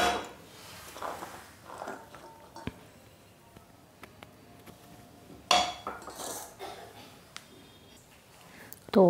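Light clinks of utensils and dishes while making chana chaat, scattered knocks and a sharper clatter midway, close by with soft room noise.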